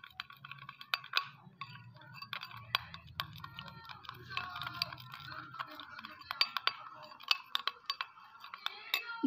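Spoon clinking and scraping against a bowl while multani mitti paste is mixed, quick irregular light taps close by, fairly quiet with a low hum in the first half.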